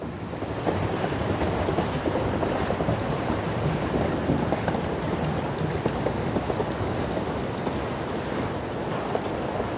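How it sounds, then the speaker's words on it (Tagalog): Strong ocean waves crash and churn against the Barwon Heads jetty in a steady, loud roar, with heavy wind buffeting the microphone throughout and no voices. "Malakas ang alon"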